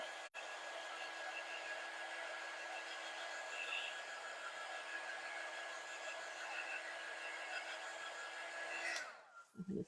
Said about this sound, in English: before I smear that even more, I'm going to dry it